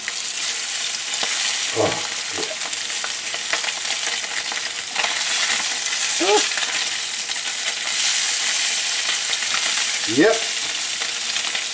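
Branzino pan-searing in a hot pan crackles with a steady, bright sizzle, punctuated by a few short voiced remarks and scraping stirs over the constant frying.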